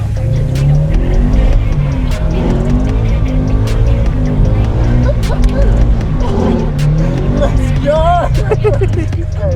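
A Subaru BRZ sliding and drifting on a track sends out loud revving engine tones that rise and fall, with brief tire squeals, while people talk and cheer close by.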